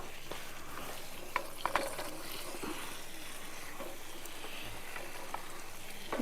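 A spoon stirs paneer through spinach and spices in a pan, making continuous sizzling and scraping with a few clinks against the metal. The sound is close and fairly loud, and nobody speaks.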